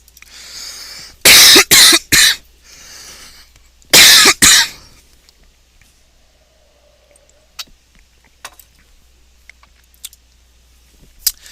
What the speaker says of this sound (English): I just got to clear my throat.